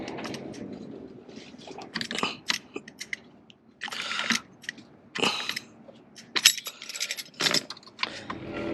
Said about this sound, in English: I'm just gonna go ahead and use my vice grips just to loosen it up